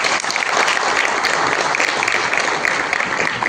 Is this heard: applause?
yes